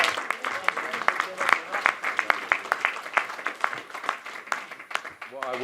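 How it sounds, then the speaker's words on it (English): Audience applause in the room at a boxing post-fight press conference, a moderate spattering of claps in an uneven rhythm that carries on throughout, with voices under it. "I think you deserve a round of applause for that"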